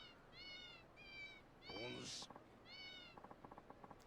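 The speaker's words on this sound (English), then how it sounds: "with this card searcher thing, it keeps meowing with every step" Short synthetic meows repeat from a card-searching gadget in the video game Yakuza 0, several evenly spaced cries with a brief burst and soft rhythmic footstep ticks, all at low volume.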